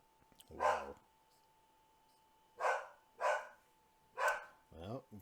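A dog barks four or five times in separated single barks, fairly close, over a quiet background with a faint steady hum.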